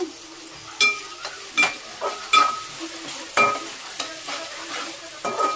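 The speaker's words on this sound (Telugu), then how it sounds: "ఫ్రెండ్స్ ఆనియన్స్ అయితే ఫ్రై అవ్వడానికి రాక్ సాల్ట్ అయితే వేసుకుంటున్నా." Onions frying with rock salt in a pan, with a steady sizzle under repeated sharp scrapes and taps of a utensil being stirred through them, close and fairly loud.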